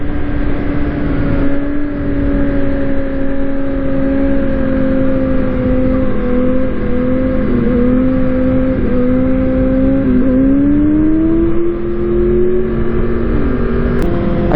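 A motorbike engine drones steadily and loudly while riding, its pitch rising and dipping slightly with throttle changes over a continuous rush of road and wind noise, with no talking.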